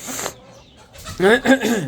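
Hens and roosters clucking close by in short, loud bursts, with a quieter call at the start and a denser run of clucks toward the end.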